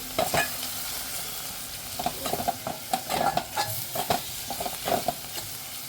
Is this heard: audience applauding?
no